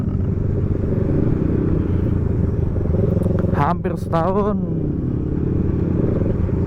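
A second-hand Yamaha Xmax scooter with an engine fault, its engine idling with a loud, steady, close rumble. Someone speaks briefly over it midway.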